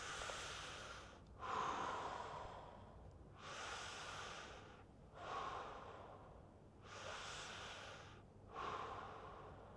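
Slow, deep breaths drawn in and let out during a guided stretch, about three audible inhales spaced a few seconds apart, close to the microphone with no talking.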